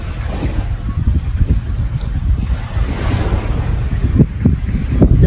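Sea waves wash onto the beach at Premià de Mar near Barcelona, a loud continuous roar of surf mixed with wind rumble on the microphone and no speech.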